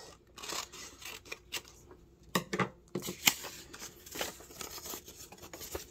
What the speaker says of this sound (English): Let's just cut it